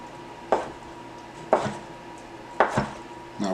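Turkey meat being chopped on a board for turkey salad: four sharp knife strikes spaced about a second apart, each a crisp knock with a short ringing tail, close up and alone without talk.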